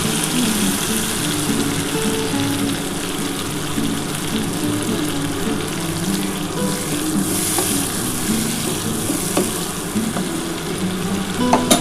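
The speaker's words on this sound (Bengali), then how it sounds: "এবার আমি একটু সামান্য জল দিয়ে দিচ্ছি" Poppy seed and cashew paste frying in a pan for a katla fish curry, with water poured in, giving a steady, loud sizzle and bubbling that carries on throughout with a few scrapes of stirring.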